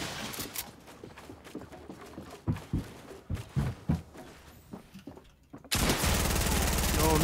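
Gunfire in the video game Fortnite: a string of sharp, loud shots between about two and four seconds, under game noise and talk, before a dense, loud burst of sound takes over near the end.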